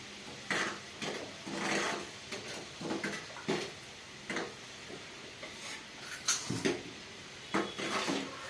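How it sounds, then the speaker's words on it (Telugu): A ladle knocks and scrapes against a metal pan as a thickening mixture is stirred, giving irregular clinks and taps spread through the stretch, moderately close, with no talking. "గరిటెతోటి అది తెరలేదాకా అలాగే కలుపుకోవాలండి"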